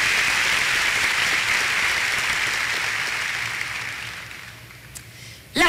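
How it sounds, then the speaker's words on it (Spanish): Loud, sustained applause fills a church service hall as the congregation claps together, gradually thinning and fading over several seconds before a sharp noise at the very end. "date un fuerte aplauso"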